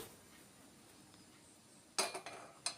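A metal pan clanks onto a lit stove after a quiet stretch, giving a sharp clatter followed by a few smaller knocks and a final clink, close and alone.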